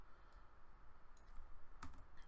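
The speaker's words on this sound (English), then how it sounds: "Sorry if you could hear my keyboard and mouse" Computer keyboard typing and mouse clicking in a home setup, a faint, soft patter of keystrokes with a few sharper clicks, steady and low under a quiet background.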